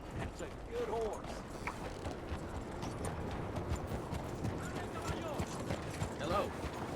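Horse hooves clip-clopping in Red Dead Redemption 2, a soft, irregular walking beat under faint creaks and ambient game noise, with brief voice-like sounds in the background.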